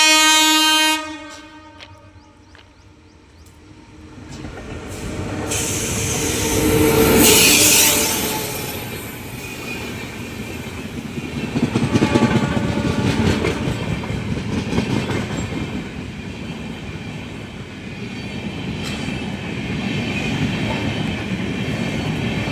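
A fast train rushes past close by, its horn blaring in a long held blast at the start, then a loud roar and rhythmic rattle of the cars that swells and stays heavy to the end.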